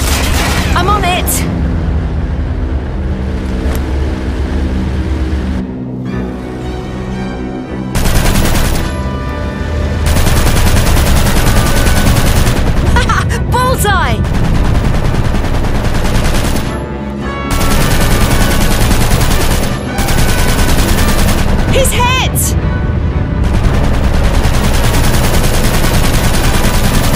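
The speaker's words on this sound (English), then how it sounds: "Start shooting back then!" Heavy gunfire in a combat scene sounds as loud, sustained rattling bursts and booming blasts with brief lulls between volleys, while voices shout over the shooting.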